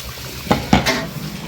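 A few scraping and clanking knocks of a ladle stirring mutton biryani in a large metal pot, close and moderately loud over a faint background hiss.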